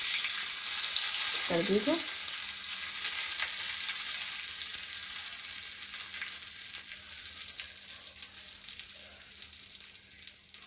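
Oil tadka sizzles steadily over chickpea greens curry in a pan, a bright crackling hiss that slowly fades, with a short spoken remark near the start.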